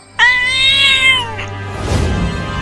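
A cartoon cat lets out one loud, drawn-out meow that is close and clear, followed by a softer rustling noise.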